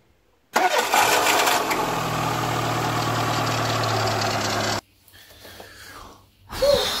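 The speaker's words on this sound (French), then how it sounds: "Ça y est, la 206 démarre, vous avez vu?" A Peugeot 206 fires up for the first time after an engine rebuild, bursting into a loud, raspy run close by that holds steady for several seconds before cutting off abruptly, followed by faint background noise.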